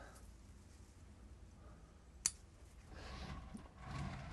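Pruning shears snip a branch on a yew (Taxus) bonsai, one crisp close click standing out against quiet room noise, followed by soft handling rustles.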